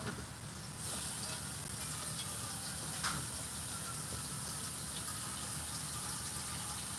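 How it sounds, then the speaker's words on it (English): Running water steadily fills a container in a home kitchen. A continuous, fairly quiet gushing hiss holds at the same level throughout. "let's get some water"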